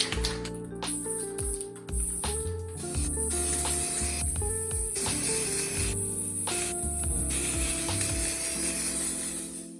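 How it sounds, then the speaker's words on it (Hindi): Spray paint hissing onto bottles as they are coated, mixed with clicking and rattling of the can, continuous and close. "जैसे कि अभी स्प्रे पेंट कर रहा हूं, तो एक साथ।"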